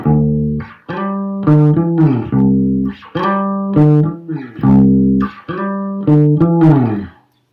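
Guitar plays the intro sequence of a song as a lesson demonstration: a steady run of picked and strummed chords and riffs, close and clear, with no talking.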